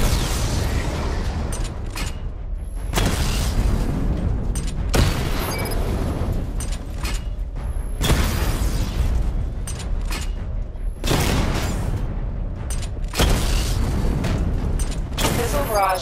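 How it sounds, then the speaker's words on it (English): Repeated heavy missile explosions from the Batmobile in Batman: Arkham Knight, booming in bursts every few seconds with rumbling tails and mechanical clatter between, while a voice speaks over the action. "Charge the missile barrage to level 2 to destroy up to 4 targets at once"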